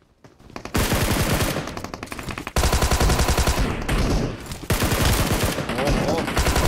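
Sustained machine gun fire in the mobile battle royale game PUBG Mobile: loud, rapid automatic bursts, close and dense, broken by a few brief pauses between long strings of shots.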